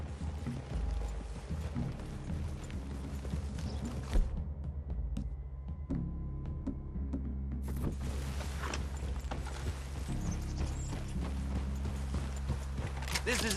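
Horses' hooves clip-clop steadily in a video game, an ongoing rhythmic clatter mixed with creaks and mechanical rattles, with a voice briefly present.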